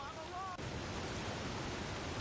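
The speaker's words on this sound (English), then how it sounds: "Oh, the waterfall." A waterfall in the King's Quest video game rushes as a steady, full broadband roar that fills the whole moment, with a brief tonal sound at the start.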